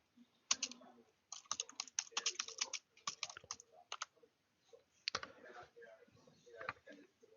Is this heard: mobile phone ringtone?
no